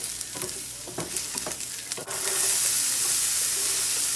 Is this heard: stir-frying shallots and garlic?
yes